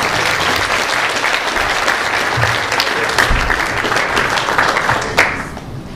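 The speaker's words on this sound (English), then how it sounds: "Let's give her a round of applause." An audience applauds steadily at a poetry performance as a poet walks to the stage, with dense sustained clapping throughout that thins slightly near the end.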